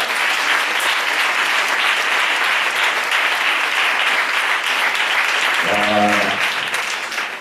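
A church congregation applauding during an international Sunday service, dense sustained clapping from a large crowd filling the whole stretch, loud and close, with a brief voice rising near the end.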